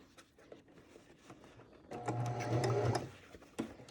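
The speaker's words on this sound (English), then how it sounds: "sew a quick stitch on the top and the bottom" A sewing machine runs a quick burst of stitching across fabric for a face mask, a close, steady mechanical whir lasting about a second before stopping, followed by light handling clicks.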